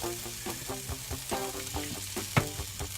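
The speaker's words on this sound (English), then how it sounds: "We're just going to kind of fry this up until it's kind of softened" Food fries in a pan with olive oil for a white turkey chili, a continuous close sizzle with uneven crackles and one sharper pop, no voices over it.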